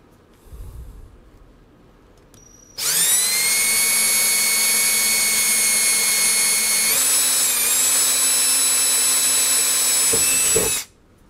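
A power drill bores a hole through a metal tube amplifier chassis, a loud, steady high-pitched whine that runs for about eight seconds, shifts pitch slightly midway, then cuts off abruptly.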